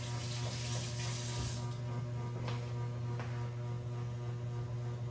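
Water runs steadily from a kitchen tap over ricotta as it is rinsed, a constant close hiss and splash over a low electrical hum, with no talking.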